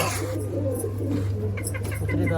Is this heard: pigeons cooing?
yes